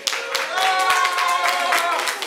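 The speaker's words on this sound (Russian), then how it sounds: "Аплодисменты первой тройки игроков." Studio audience clapping together on cue for the first trio of game-show players, a dense, steady burst of applause lasting a couple of seconds, with some voices mixed in.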